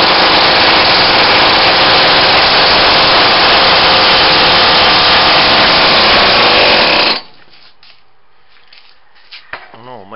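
A homemade single-cylinder engine with a JB Weld cylinder and a grafted Briggs lawnmower gas tank runs loud and ragged for about seven seconds. It then cuts out abruptly to near silence, broken only by a few faint knocks.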